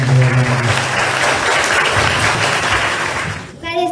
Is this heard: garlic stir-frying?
no